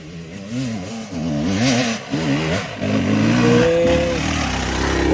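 A motorcycle engine revs up and down loudly nearby, its pitch rising and falling in waves before settling into a steady drone.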